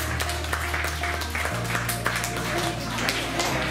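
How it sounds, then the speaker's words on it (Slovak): Audience applause for the third-place chess problem solvers at a Bratislava chess academy award ceremony, a steady even clapping from a modest crowd held throughout, with a low hum underneath. "Potlesk pre riešiteľov na tretom mieste."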